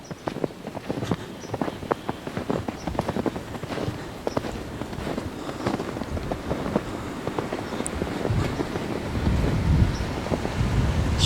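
Wind buffets the microphone at a snowy winter campsite with a hot tent, a steady rumbling gusting roar with faint scattered crackles and thumps beneath, growing slightly stronger toward the end.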